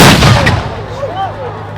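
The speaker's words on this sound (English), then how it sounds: "That is real black powder in a shell, but just without the actual bullet on the end of the shell." A Sherman tank cannon fires a black powder blank shell outdoors: one loud, booming blast that rolls out into a fading rumble and echo, with faint voices after it.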